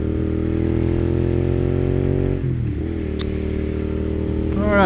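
A Suzuki SV650 motorcycle engine pulls steadily under load, then its pitch drops as it shifts or eases off, and it revs up again near the end. The engine is loud and close, with some wind noise.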